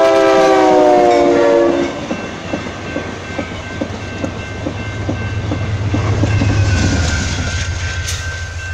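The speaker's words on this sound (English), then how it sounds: "Another talgo train coming north on track 2." An Amtrak Talgo passenger train rushes past close by, horn sounding at first, then a rhythmic clatter of wheels over rail joints that swells and fades.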